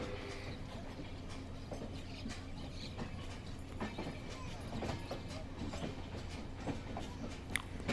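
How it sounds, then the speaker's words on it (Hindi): The Indian Kashi Express rolls from Prayagraj toward Naini, a steady rumble of wheels on rail with rhythmic clickety-clack and occasional sharp squeals and clanks, heard from on board at moderate level. "नैनी की तरफ हमारी ट्रेन बढ़ रही है"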